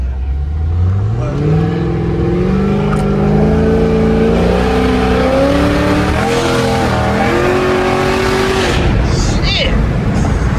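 A Chevrolet Trailblazer SS, fully built, accelerates at half throttle from inside the cabin, its engine note climbing steadily through the gears in a loud, sustained rising drone before easing off near the end.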